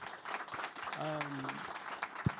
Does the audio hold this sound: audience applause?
yes